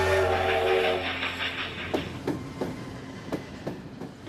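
An Italian train rolls along the rails with a steady rumbling roar. Regular clickety-clack wheel beats sound over the track joints, fairly close and with no voices.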